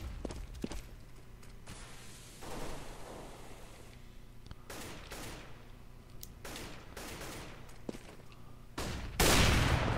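Gunfire in a competitive Counter-Strike: Global Offensive match on the Mirage map comes as scattered sharp shots and bursts amid game ambience, ending with a loud close volley.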